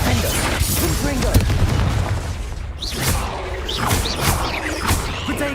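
Explosive spell blasts in Hogwarts Legacy, with deep booms and crashes layered over dense, continuous combat noise while a voice calls out throughout.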